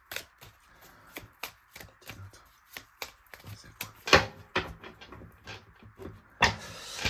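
Tarot cards being shuffled by hand, a run of crisp, close riffles and snaps in an uneven rhythm, with a couple of louder slaps toward the end and no talking.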